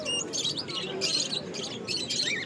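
Australian doves and other caged birds at a Bangladeshi bird market give repeated high chirps and calls in bursts, close and fairly loud over a busy background hum.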